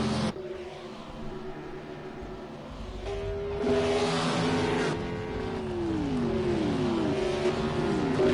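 Pack of race cars at the Great American Race roaring by in a racing game, a steady engine drone that swells as several cars sweep past, with overlapping pitches bending downward in passing.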